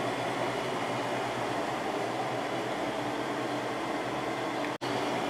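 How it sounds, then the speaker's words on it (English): A Windmill window air conditioner running on its high fan speed gives a steady, even whooshing hum of air and motor, close by and continuous, with a momentary dropout near the end. "I'm actually going to turn it up to high right now so we can hear that."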